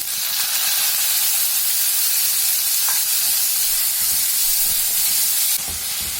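Chopped tomatoes go into onions frying in oil in a pan for a bottle gourd chutney, giving a loud continuous sizzle and hiss with faint stirring scrapes and no voice.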